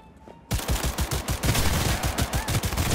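Automatic Smart Pistol in Cyberpunk 2077 firing a rapid burst of evenly spaced, punchy shots that start abruptly after a short quiet lead-in and continue loudly to the end.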